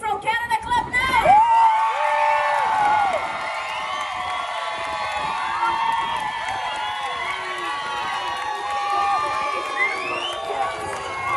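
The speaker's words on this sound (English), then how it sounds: "clap now!" A cruise ship audience aboard a Royal Caribbean ship cheers and shouts to vote, with a burst of loud voices at the start settling into a sustained mix of whoops, chatter and crowd noise.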